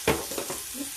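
Turmeric dropped into a sizzling pan of spiced baingan bharta, a brief close thump and hiss followed by a couple of stirring scrapes over a steady frying crackle.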